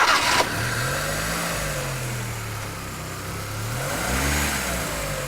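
A Volkswagen fuel-injected engine idles with a steady hum during a knock sensor test, then revs up briefly near the end, close and fairly loud.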